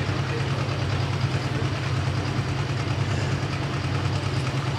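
A hot farm tractor idles at a tractor pull in Kempton, a steady, loud low engine rumble with a broad roar of crowd and outdoor noise over it, unchanging throughout.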